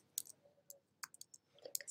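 Faint, close clicks of a computer keyboard as someone types a few keystrokes in short irregular bursts, alone in a quiet room.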